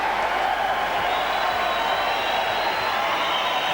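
A boxing arena crowd roars and cheers after the round bell, a sustained, even wash of voices filling the hall at steady loudness with no break.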